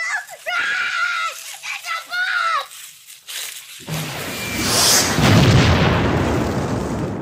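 A child's home-movie explosion begins after shouted, excited voices. It arrives as a sudden loud blast that settles into a sustained roaring rumble.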